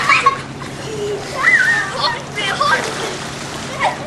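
Water splashes from swimming off a floating island on Donner Lake, light sloshing under excited voices of children and adults calling out outdoors.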